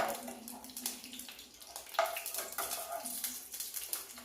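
Milma ghee being poured into a pan, a faint, soft liquid trickle and splash with small clinks of cookware, quiet and irregular.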